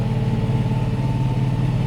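Tractor engine running while driving and pulling a trailer loaded with three panels, a steady low rumbling drone at even pitch, close and continuous with no talk.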